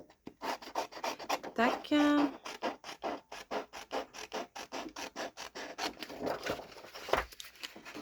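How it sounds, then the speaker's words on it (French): A paper outline for a scrapbook page being cut out, heard as a close run of rapid scratchy snips and rasps in a steady rhythm, with a brief spoken word partway through. "je découpe le contour"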